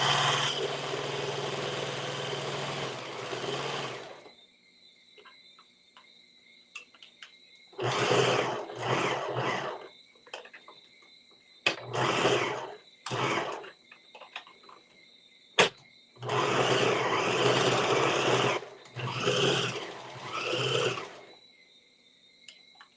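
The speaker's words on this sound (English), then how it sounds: "I am going to use my serger just to finish the edges" A serger finishes fabric edges in several loud, close bursts of buzzing whir separated by near-silent pauses, one short burst and longer runs.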